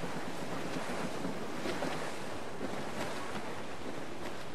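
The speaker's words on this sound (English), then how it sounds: "There's a strong wind now." Strong wind and ocean surf aboard a sailing schooner in Assassin's Creed 4 Black Flag, a steady roaring wash of wind and waves, broad and continuous with no talk.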